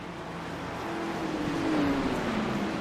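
Race cars in a stock car racing simulation at Daytona, a steady loud engine drone with a rising whine that builds slightly toward the end, with no talking.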